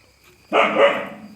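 A single loud, close dog bark bursts out after a moment of quiet, then trails off.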